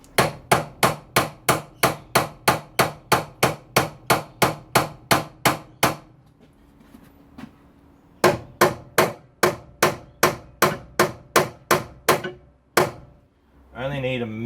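Hammer tapping at the radiator clips of a Mazda MX-5, a run of sharp metallic blows in quick regular rhythm, a short pause, then another rapid series, close and loud.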